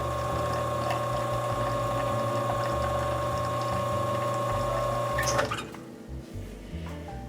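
Lelit Bianca V3 espresso machine running its pump steadily through a slow shot, a constant mechanical hum and whine that stops abruptly near the end, leaving quieter clinks and room noise.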